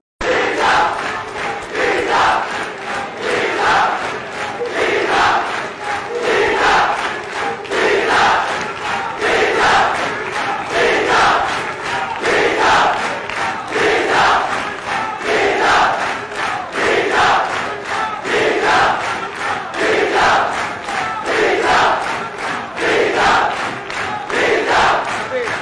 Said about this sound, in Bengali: দেখুন ভালো করে আজকে ঢাকা বিশ্ববিদ্যালয়ের স্লোগান।